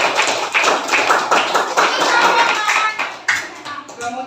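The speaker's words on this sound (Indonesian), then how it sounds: "tepuk tangan untuk Alia" Close, loud clapping from a small group, likely a class, cheering for a student named Alia during an Islamic lesson, a quick rhythmic run of sharp hand claps that loosens and breaks up near the end.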